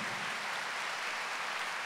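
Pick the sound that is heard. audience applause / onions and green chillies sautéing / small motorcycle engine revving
audience applause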